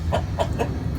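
Backyard chickens clucking nearby: three short, evenly spaced clucks over a low background hum, with no voices.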